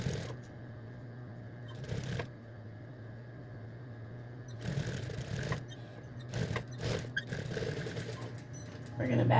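A sewing machine back stitches along the bottom edge of a horse-themed hooded towel, running steadily at close range with brief pauses and quick restarts.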